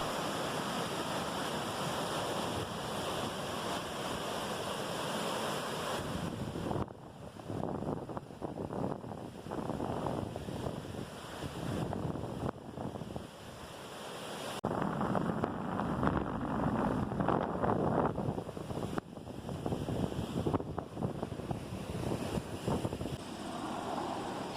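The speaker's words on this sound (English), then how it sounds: "Here we've reached Gibraltar Beach." Wind buffets the microphone while waves wash onto the shore at Gibraltar Beach on Toronto's Centre Island, a steady outdoor roar swelling and easing in gusts, with no one speaking.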